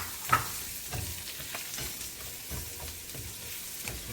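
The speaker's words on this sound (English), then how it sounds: "We're gonna put about half of the onions in here. We're gonna caramelize them." Onions sizzle and hiss in butter as they caramelize in a pan for keto carne asada steak tacos, while a utensil stirs them in soft, regular scrapes close by.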